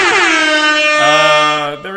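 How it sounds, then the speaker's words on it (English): A loud, harmonically rich air horn blasts close by, holding a long tone that shifts pitch partway through before cutting off at the end. "using air horns"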